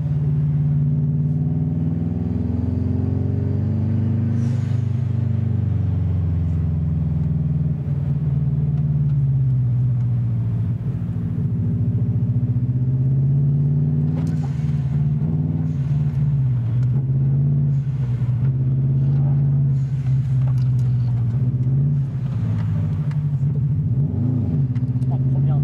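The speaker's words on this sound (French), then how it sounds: "On va essayer de drifter la voiture." Subaru all-wheel-drive car engine revving loudly and continuously while drifting, pitch rising and falling over about 25 seconds, with people talking over it.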